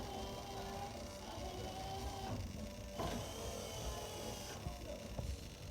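A Corvette's power window motor hums steadily as the glass travels, a close, continuous electric whine with slight strain changes midway, heard alone in a quiet garage.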